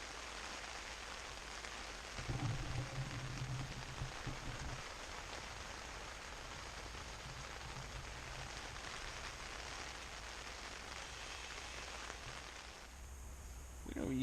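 Steady rain patters on surfaces during a multi-day mountain backpacking trip in Banff, a continuous soft hiss throughout, with a person speaking briefly over it.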